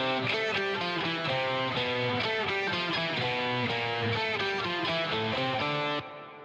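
Two distorted electric guitars play octaves together, one panned left and one right, in a steady stream of evenly picked notes at a constant level before stopping sharply near the end.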